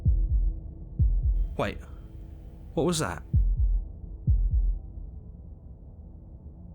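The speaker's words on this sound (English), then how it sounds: "That was the sound of a heartbeat" Low, thudding heartbeat effect from the video game Slay the Princess, several dull beats spaced out across the clip, with a person speaking briefly over it.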